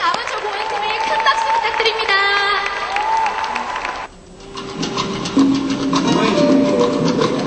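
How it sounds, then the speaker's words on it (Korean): Audience at a Latin dance festival applauding an amateur dance team, dense clapping and cheering mixed with voices, chatter and music, briefly dropping before swelling again. "이날 가장 큰 박수를 받아냅니다"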